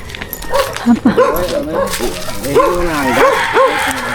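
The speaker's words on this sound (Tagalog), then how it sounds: "Yan may aso." A dog barks and yips repeatedly at close range, excited and whiny, with background noise throughout.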